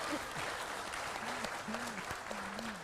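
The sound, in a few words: audience applause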